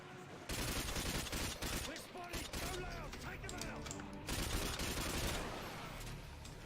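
Rapid bursts of gunfire in Call of Duty: Modern Warfare 2, including AK-47 fire, crackling in quick volleys amid game noise throughout, fairly quiet overall.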